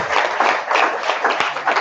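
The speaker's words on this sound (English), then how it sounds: "A warm round of applause" A warm round of applause from an indoor audience at an energy event, dense steady clapping filling the whole stretch at moderate loudness with no speech over it.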